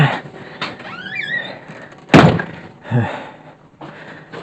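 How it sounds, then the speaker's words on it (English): A door is pulled shut in a farmhouse at milking time, a sharp loud thunk halfway through followed by a softer knock, amid scraping, rustling and handling noises nearby. "get the door shut"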